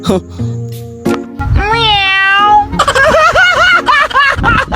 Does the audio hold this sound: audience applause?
no